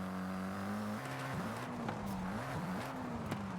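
A car drifts in the racing game Forza Horizon 5, its engine holding a steady droning pitch that dips and wavers as the throttle is modulated, with brief tire-squeal scrapes, loud and continuous.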